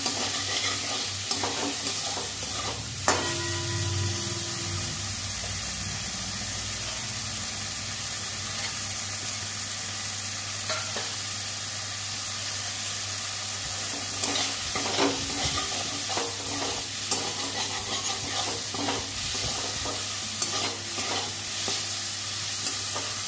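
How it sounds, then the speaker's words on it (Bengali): Oil sizzles steadily in a pan for a long stretch as ingredients are stir-fried, with a low hum underneath and scattered scraping knocks of a utensil stirring, including a louder clatter early on. "ভালো করে ভেজে নেব। দেওয়ার পরে সামান্য একটু তেল দিলাম।"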